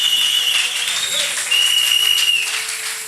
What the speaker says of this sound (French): Alors acclame très fort pour le Seigneur.